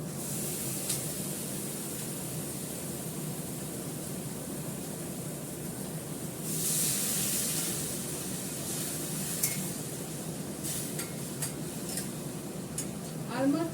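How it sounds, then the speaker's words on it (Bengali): Fish goes into a pot of salted water on the stove for a Bengali fish dish, followed by a steady hiss of cooking with scattered clinks of utensils against the pot, close and moderately quiet, with no talk. "মাছটা দিয়ে দিলাম।"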